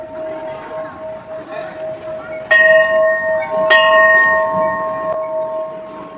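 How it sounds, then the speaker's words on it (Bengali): Temple bell at Dhakeshwari temple struck by hand, several clear ringing strikes with long sustained metallic tones, close and loud over a murmur of background voices. "সবাই দেখতেছি ঘন্টা বাজাচ্ছে, দেখে আমার এত ভালো লাগলো যে আমিও আজ এই ঘন্টাটা বাজাবো।"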